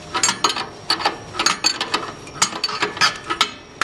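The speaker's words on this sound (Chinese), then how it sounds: "扭气缸末端这颗大螺丝" A size-30 open-end wrench works the large screw at the end of a cylinder on a jar-sealing machine, giving a quick run of close metallic clicks and ratchety ticks in an uneven rhythm.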